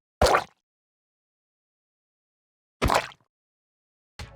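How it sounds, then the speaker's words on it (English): Minecraft game sound effect for using an ink sac or glow ink sac: short, wet plopping bursts, one near the start, another a few seconds later and a third cut off at the end, separated by silence. "a new sound for using an ink sac or Glow Ink Sac."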